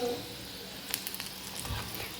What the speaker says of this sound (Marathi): हे सगळं लो फ्लेमवरच तळून घ्यायचे.